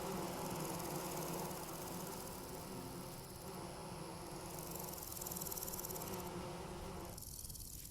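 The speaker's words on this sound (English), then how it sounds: "That's going to drive me nuts if I have constant audio problems with bees." Steady buzzing drone of bees in the Vintage Story video game, a continuous dense hum that fills the whole stretch at constant level with no voices.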